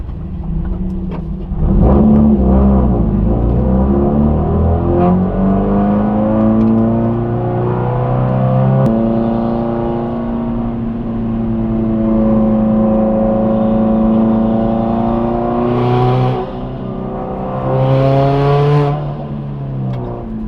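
A former race car converted for daily driving pulls away on a short test drive. Its engine note rises and falls through several gear pulls, heard close up and steady, with no talking.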